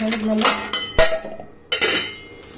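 A metal lid is set onto a cooking pot, with a few close clanks and clinks of metal against metal, separated by short pauses.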